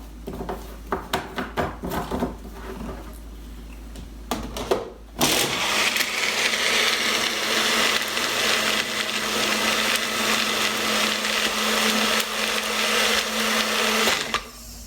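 A blender whirs up a peanut butter and jelly smoothie with chocolate chips and raisins, loud and steady for about ten seconds after a few seconds of knocking and handling sounds, with no voices.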